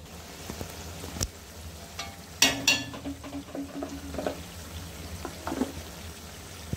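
Peas and capsicum frying in a pan for pav bhaji, with a soft steady sizzle broken by several sharp stirring scrapes and clatters, close and clear without talk.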